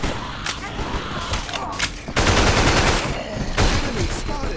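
Gunfire in a zombie video game, with dense, loud bursts of automatic fire that rattle continuously and grow heavier midway, and a voice talking underneath.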